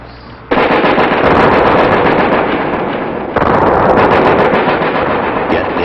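Marine recruit training in 1973, with a sudden loud onset of dense, continuous rapid gunfire and blasts that keep up throughout and surge again midway, harsh and close.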